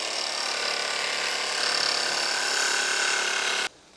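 A Starrett cutter trims a kit car body panel with a steady, harsh grinding buzz that holds for several seconds close by, then cuts off abruptly.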